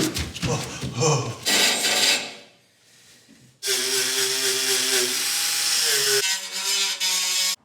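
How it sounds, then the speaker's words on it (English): Paint is scraped and sanded off the metal body of an FJ40 Toyota Land Cruiser before welding, heard as loud, close, rough abrasive rasping in bursts with a brief quiet gap, then a sustained grinding whine. "I just cleared off a little bit of the paint, so when I tack this in place, it'll be a good weld."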